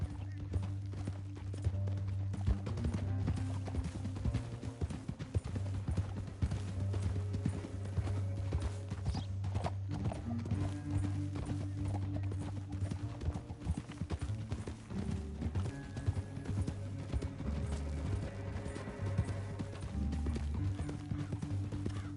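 Rhythmic hoofbeats of galloping horses in Red Dead Redemption II pound steadily over rumbling background music, with occasional snorts, the pace continuing for a long stretch.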